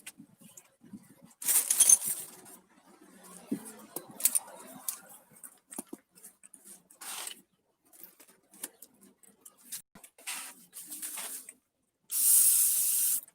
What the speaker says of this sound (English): we're gonna go ahead and hit it with some brake clean.